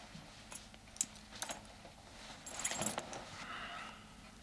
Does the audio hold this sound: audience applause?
no